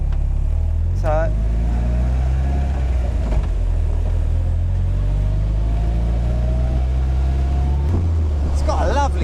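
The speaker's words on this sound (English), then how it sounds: "it's got a lovely rasp to the engine though" An Indy RX-5 160 car engine drones loudly and close with a gritty, rasping low rumble, rising slightly in pitch, with brief voices cutting in at moments.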